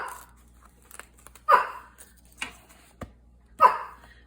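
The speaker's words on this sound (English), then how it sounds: "Oh, sorry about my puppy." A small puppy lets out a few short, sharp yips at close range, spaced about a second apart with quiet pauses and faint shuffling between them, no talk in the clip.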